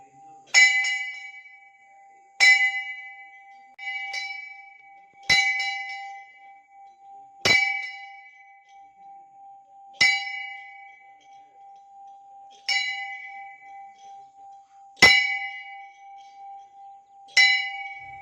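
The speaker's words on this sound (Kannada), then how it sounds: "ಬೆಲ್ಲೊಡಿ" A temple bell is struck repeatedly at a steady pace of roughly every two to two and a half seconds, each bright clang ringing out and fading with a sustained hum, close and clear.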